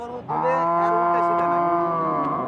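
A cow moos once in a long, loud, sustained low call close by, steady in pitch and lasting over two seconds.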